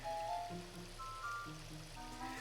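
Gentle trickling fountain water in Ocarina of Time, soft and steady, with faint tonal chimes from the game layered over the flow.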